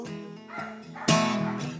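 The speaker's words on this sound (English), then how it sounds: "Wish that dog would keep quiet in the background." Two or three whiny barks from a dog in the background, the last one sharper and louder, with no one speaking.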